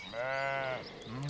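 Farm sheep and goats bleat close by: one long, wavering bleat, then the start of a second lower call.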